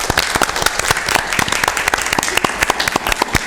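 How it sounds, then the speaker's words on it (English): A room at a county board of supervisors meeting breaks into steady, dense applause with many hands clapping close by, loud and continuous throughout. "I think we give you a round of applause"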